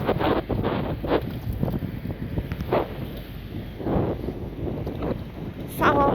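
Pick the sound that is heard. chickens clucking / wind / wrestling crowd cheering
wind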